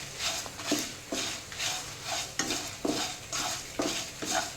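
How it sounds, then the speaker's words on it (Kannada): Spices frying on a low flame in a pan while a spoon stirs them steadily, giving a continuous soft sizzle with rhythmic scraping strokes about every second, close and clear with no talk. "ಇವಾಗ ಚೆನ್ನಾಗಿ ಫ್ರೈ ಮಾಡ್ತೇನೆ, ಒಳ್ಳೆ ಘಮ ಬರಬೇಕು"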